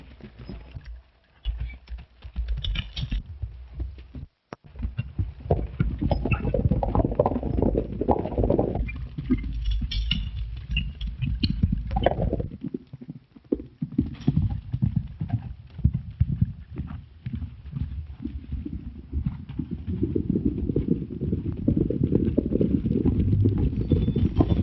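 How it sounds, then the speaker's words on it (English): Horses' hooves clip-clop steadily on the ground in an old western film, a dense rhythmic clatter that carries on throughout under scattered shouts and voices. "Get on your horses, men. Saddle up."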